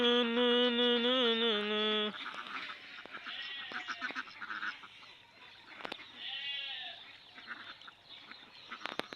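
A flock of ducks passes by a village pond, and their quacking chatter continues under steady outdoor noise after a harmonic animal call at the start.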